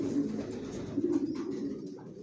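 Johnson racing homing pigeon babies coo close by in a loft, soft throaty rolling calls that repeat and overlap in a low, steady murmur.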